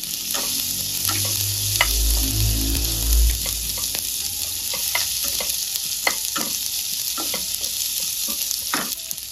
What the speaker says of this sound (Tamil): லைட்டு காரம் கொடுக்கறதுக்காக வரமிளகாயை போட்டு வதக்கிறேன்